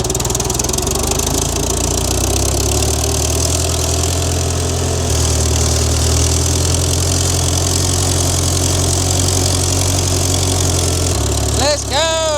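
A John Deere 424-type small tractor engine runs steadily at close range, a loud continuous low drone throughout with a brief sharper sweep near the end.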